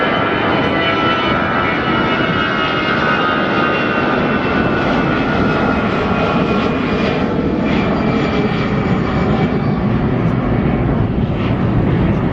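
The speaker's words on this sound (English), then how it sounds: "The second easyJet I've seen take off." easyJet jet airliner taking off from Gibraltar Airport, a loud, steady roar of aircraft engines sustained for the whole stretch, broad and powerful without pauses or voices.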